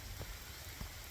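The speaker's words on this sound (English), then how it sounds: "Rain pouring down for a while." Steady rain pours down on a stormy hike near Dog Slaughter Falls, Kentucky, a dense continuous patter with a couple of heavier drops standing out, no voices.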